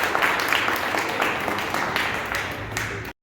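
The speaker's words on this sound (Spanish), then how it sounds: "¡Aplausos!" Audience applause at a community civic participation meeting, a loud, steady patter of many hands that holds for about three seconds before cutting off abruptly.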